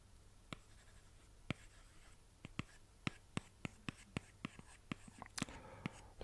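A stylus scratches and taps across an iPad fitted with a paper-feel screen protector, making light, sparse ticks and short strokes that sound faint and close, with no talking.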